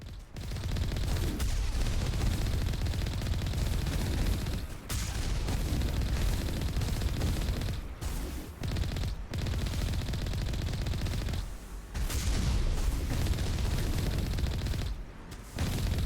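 Automated turrets fire in sustained bursts of rapid gunfire in the game Mass Effect Legendary Edition, loud and nearly continuous, with brief gaps between volleys.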